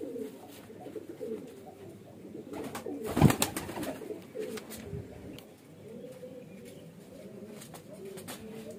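Highflyer pigeons in a loft, soft low cooing murmurs throughout with one brief loud burst near the middle, faint and close by.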